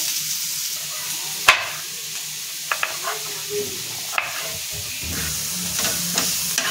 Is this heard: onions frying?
yes